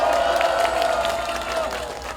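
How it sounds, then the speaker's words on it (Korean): Crowd applause and cheering at an outdoor People Power Party campaign rally in Saeam Park, Paju, South Korea. A dense, steady wash of clapping and voices carries on throughout, with a thin sustained tone ringing above it. "기자분들한테도 박수 한번 보내주세요."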